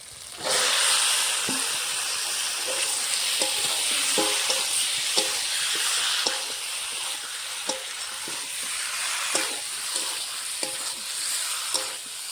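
Marinated chicken pieces frying in spiced oil for Bengali chicken kosha, a steady close sizzle with repeated scraping stirs and clinks against the pan, no talking.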